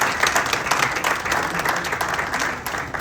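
A stadium crowd applauds the Minister for Communications at Kumasi's Appiah Stadium, loud close clapping in uneven pulsing surges throughout, with faint crowd murmur underneath.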